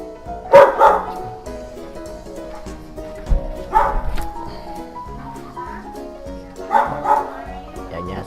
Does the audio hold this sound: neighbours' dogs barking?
yes